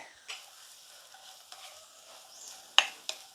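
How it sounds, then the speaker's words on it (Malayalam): Shallots frying in a pan with chili, turmeric and garam masala powders, a faint steady sizzle with a few brief stirring scrapes and clinks, no talking. "ചെറിയുള്ളിയൊക്കെ നന്നായിട്ട് വഴുന്നിട്ടുണ്ട് കേട്ടോ"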